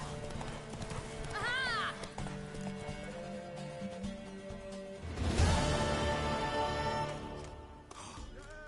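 Horse hooves clip-clop at a gallop in The Witcher 3: Wild Hunt, a steady drumming run that swells louder near the middle, with a whinny, game music and a short spoken exclamation over it.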